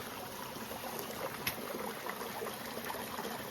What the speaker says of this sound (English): Got creek here.